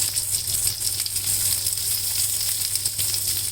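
Onions, two or three handfuls, frying in hot tempering oil for a sweet-and-sour cucumber curry, giving a steady, close sizzle that holds evenly throughout with no talking.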